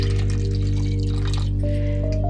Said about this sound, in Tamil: அடுத்து இதில் கொஞ்சமாக தண்ணி ஆட் பண்ணிக்கலாம்.